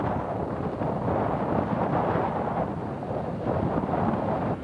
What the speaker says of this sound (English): Boy, it's a windy day.